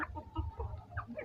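Several chickens cluck softly nearby in short, irregular bursts, a low murmuring chorus with no talking.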